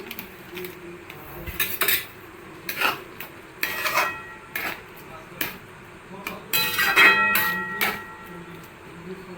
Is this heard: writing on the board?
no